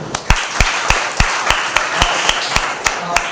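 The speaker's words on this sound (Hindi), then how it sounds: "और एक जोरदार ताली बजाइए।" Audience at a Mother's Day church service claps together in a steady, loud, rhythmic beat of about three claps per second, crisp and close, with no talking.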